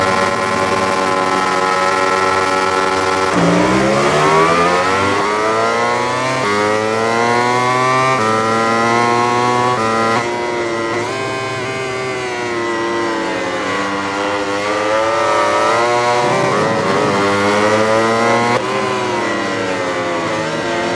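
MotoGP motorcycles launch off the grid at the Ricardo Tormo circuit in Valencia. A loud, layered engine wail rises and falls through repeated upshifts as the pack accelerates away, sustained and close throughout.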